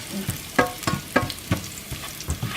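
Garlic frying in hot oil in a pan as the base for shrimp fried rice, a steady sizzle broken by several sharp scraping stirs at an even rhythm, close and fairly quiet, with no talking.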